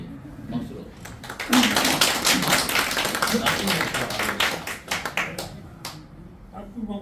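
A seated audience at a Korean clan society general meeting and chairman inauguration claps together, a burst of sharp, close handclaps swelling then thinning out over several seconds, with a voice speaking briefly under it.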